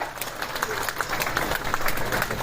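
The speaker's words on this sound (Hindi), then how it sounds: "जोरदार तालियां।" Crowd applause welcoming the Lieutenant Governor at a trade show event, a fairly loud, continuous patter of many hands clapping with individual claps standing out, steady across the short stretch.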